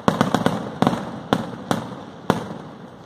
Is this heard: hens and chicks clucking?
no